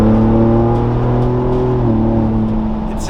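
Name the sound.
Ford Bronco with AWE off-road exhaust revving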